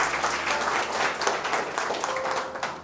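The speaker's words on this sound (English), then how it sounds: "So please clap and welcome to Mr. Janin on stage" An audience at an English debate competition claps to welcome a guest onto the stage, a dense, even burst of applause from many hands with no talking.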